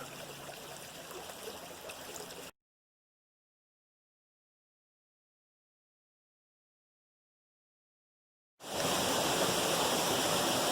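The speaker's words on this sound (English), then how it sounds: "Here I am at the first waterfall, and it is very slick." A canyon waterfall rushes in a steady hiss, then drops into a long silence before the roar returns, a bit louder.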